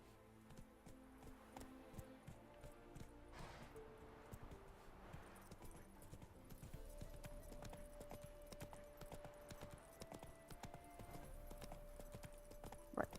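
Horse galloping in the video game The Witcher 3: Wild Hunt, a steady run of hoofbeats at a rapid clip-clop rhythm, held at moderate volume with a soft game ambience underneath.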